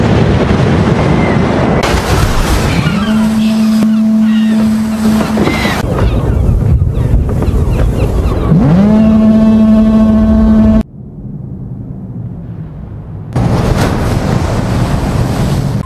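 A boat moving over open sea, with steady wind and wave noise throughout and tonal horn-like blasts rising twice, then a brief quieter stretch before the rushing sea noise returns.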